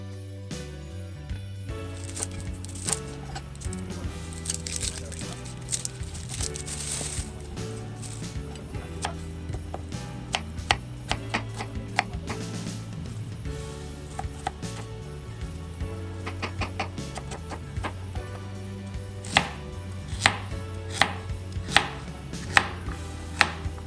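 Knife chopping carrots, celery and leftover cabbage on a board for homemade soup, with a steady run of close, crisp blade strikes that grow sharper and more spaced toward the end.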